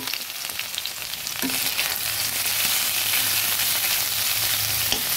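Drumsticks and potatoes fry in a pan with a dense, steady sizzle that grows louder after a lid is lifted, crackling close and continuous with no talk.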